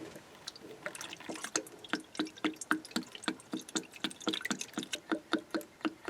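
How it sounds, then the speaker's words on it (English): Coolant is poured into the coolant reservoir of a Peugeot 307 1.6 after a radiator replacement. Quick, rhythmic glugging and splashing runs steadily and close by, with no talking. "just top up your coolant reservoir"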